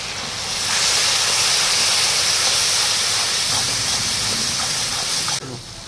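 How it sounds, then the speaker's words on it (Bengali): Ground spices frying in a pan hiss and sizzle loudly the moment a little water goes in for a sea chital fish oil-jhal curry, a steady close steamy sizzle lasting about five seconds before cutting off. "আমি একটু সামান্য জল দিয়ে মশলাটা কষিয়ে নেব"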